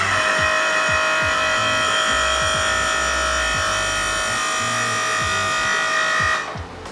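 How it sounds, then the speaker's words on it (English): A Mercury outboard motor's power tilt unit whirs steadily as it raises the motor, a close electric hum with a constant tone that cuts off abruptly near the end, with a few soft knocks underneath. "let's tilt this motor up and see if we can't drop this lower unit"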